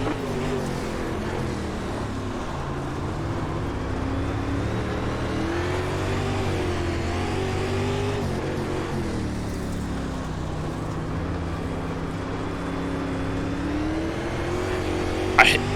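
Dirt late model race cars at Cedar Lake in iRacing roar off at the green flag, a dense, continuous engine drone with rising and falling revs from the pack, loud and sustained throughout with no break.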